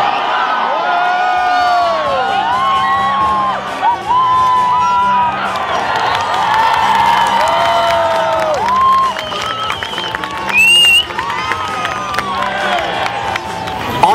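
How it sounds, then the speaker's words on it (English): A large outdoor crowd at a flag hoisting in Federation Square, Melbourne, cheers, whoops and claps loudly and continuously, with shouts rising and falling across the throng. "applause and a cheer?"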